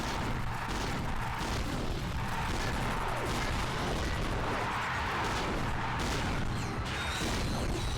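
Blitz cannon and HK-22 gun fire in Ratchet and Clank: Going Commando, a dense barrage of booming shots and crashing impacts layered over constant game noise, loud and relentless throughout.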